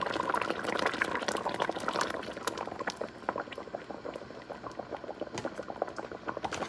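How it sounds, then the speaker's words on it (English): A pot of ropa vieja with tomato chunks and tomato sauce simmers with a dense, steady bubbling and popping close up. Small wet clicks continue throughout, and no one speaks. "And I'm going to add the tomato sauce."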